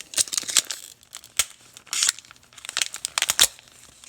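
Tough plastic packaging being sawed at with a cheap dollar store knife, giving close crinkling, crackling and scraping with sharp irregular bursts, alone and with no talking.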